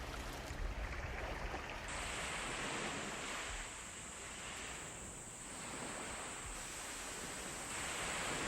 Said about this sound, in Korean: 섬의 새벽은 바닷소리와 함께 온다.